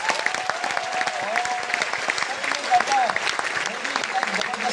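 Steady applause from a crowd, dense clapping that continues throughout at moderate volume.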